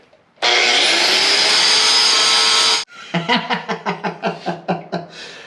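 A 7-inch, 13-amp, 8,000 RPM power tool screams loud and steady for about two seconds, then cuts out, followed by a series of rhythmic knocking or chopping bursts.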